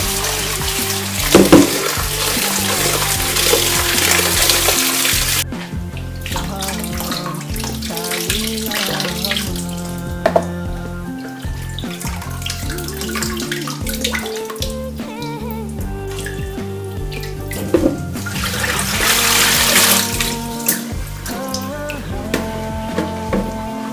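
Kimchi ingredients being washed under a running tap, a continuous loud rush of water with splashing and clattering of handling throughout.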